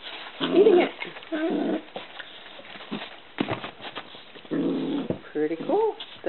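Young brown puppies, about five weeks old, chew and tug at a chicken drumstick with soft growls, whimpers and squeaky yelps in close, irregular bursts.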